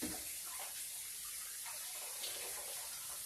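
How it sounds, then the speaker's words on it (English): Hands are washed under a running kitchen tap. The water makes a soft, steady rushing stream, faint and unbroken for a few seconds with no voices. "Let me get up and wash my hands real quick."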